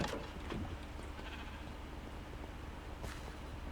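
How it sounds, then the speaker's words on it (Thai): Sheep bleating in the Minecraft video game, with a short bleat near the start over a steady, dense background of game ambience and noise. "งันก็เสกแกะในบ้านเลย นี่แหละ มีแกะในบ้านแล้ว"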